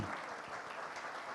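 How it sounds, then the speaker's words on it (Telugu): An audience at a Telugu film pre-release event claps, producing a faint, steady wash of applause heard from a distance, with no clear talking over it. "Every one has to clap for her."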